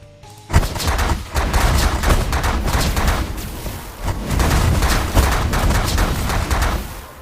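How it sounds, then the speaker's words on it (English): Enemy ship weapons blasting in The Last Federation space game, loud rapid bursts of gunfire-like blasts and booms firing continuously in a dense volley. "Oh, it's blasting at us."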